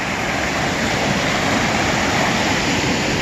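A waterfall and river pour in a steady, loud, unbroken roar of rushing water, close by and without any voices.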